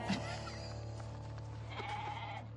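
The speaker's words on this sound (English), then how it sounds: "You won't be able to tell the normal goats from the transgenic goats because they're all exactly the same." Several goats bleat close by, genetically modified animals engineered to produce spider silk proteins in their milk, mixed with ordinary goats on a farm; overlapping wavering calls sit over a steady low hum.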